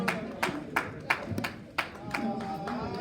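Hands clap for a woman receiving a certificate of appreciation, sharp separate claps in a loose rhythm about every third of a second, with faint voices underneath.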